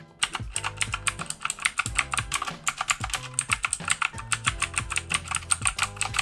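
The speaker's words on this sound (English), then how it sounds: "I'm just going to give you a little typing demo now just to let you hear what they actually sound like." Rapid clicky typing on an Aukey KM-G3 mechanical keyboard with blue switches, dense bursts of sharp keystrokes close up, continuous and uneven in rhythm, with no speech.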